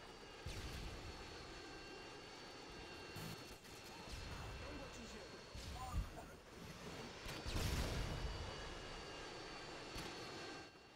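A Harrier jet roars through Modern Warfare 2 gameplay, its loud, sustained engine rumble swelling and fading with sharp crashing impacts mixed in, while a player talks over it.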